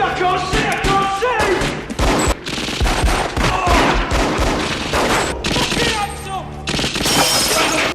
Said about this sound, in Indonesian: rentetan tembakan langsung menghujani mereka